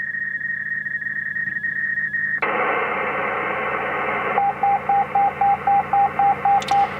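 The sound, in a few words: HF radio base station dialing a phone number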